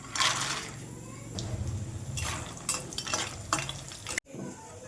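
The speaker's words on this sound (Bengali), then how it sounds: "বড়িগুলোকে এবার ভেজে নেব।" Lentil dumplings (bori) fry in hot oil in a wok, giving a steady close sizzle with scraping and stirring strokes and brief clatters, ending in a sharp cut.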